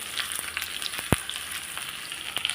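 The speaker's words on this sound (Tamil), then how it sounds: "நீள சைஸில் அதுவும் பொரியட்டும்." Long-sliced onions fry in hot oil for a drumstick leaf sambar, a steady close sizzle crackling with small pops and one sharper knock of a spoon against the pan.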